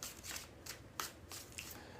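A deck of tarot cards is shuffled by hand in a few soft riffling bursts with brief pauses between them, close and fairly quiet, with no voice over it.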